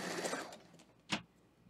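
A sewing machine stitches quilt pieces over pins in a short, quiet run of needle whirring, then goes still, with one sharp click or tap near the end.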